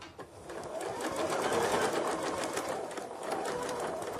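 A sewing machine stitches a side pocket, its fast needle chatter running steadily and close for the whole stretch, with a faint voice underneath.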